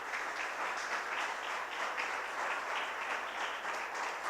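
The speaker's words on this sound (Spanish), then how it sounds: "denles aplauso al Señor" Steady, sustained applause from a church congregation during a worship service, filling the space evenly without pause and no talking over it.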